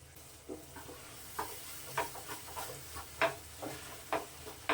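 A spoon scrapes and stirs thick lentil batter in a pan over low flame, irregular soft strokes with faint sizzling in the background, no talking.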